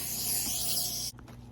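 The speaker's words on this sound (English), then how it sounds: "Got my Lysol disinfectant spray." Lysol disinfectant spray hisses from an aerosol can in one steady, close burst lasting about a second before cutting off abruptly, leaving quiet room sound.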